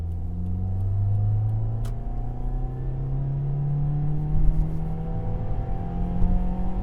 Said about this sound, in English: I'm about to do a third gear pull here